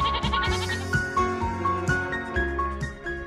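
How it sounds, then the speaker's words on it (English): A goat bleats in a rapid series of wavering, nasal cries, about five or six calls repeated close and loud with no other sound. "A female goat is called a doe and a male goat is called a billy."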